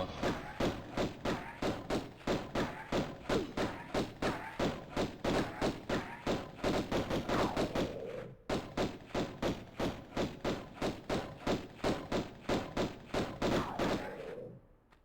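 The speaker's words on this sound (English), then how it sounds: "I know the gunfire can be annoying." Rapid, steady bursts of gunfire in Tomb Raider Remastered thump repeatedly for the whole stretch, briefly pausing once, loud and close with no talking.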